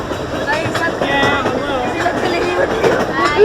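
An Arrow-built Runaway Mine Train coaster rumbles and clatters steadily along its track at Six Flags Great Adventure, a continuous mechanical roar with people talking over it.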